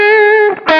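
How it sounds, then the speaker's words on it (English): Electric guitar played through a mid-boost overdrive pedal into an S-Gear amp simulator, a loud sustained chord ringing steadily, then a brief re-strum that picks the chord up again near the end, with no voices. "If I activate that, it's that nice mid push, you know, that you get from like a Tube Screamer or a Klon"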